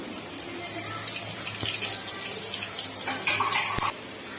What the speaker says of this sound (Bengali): চিড়েটাকে আমি ধুয়ে দিয়েছি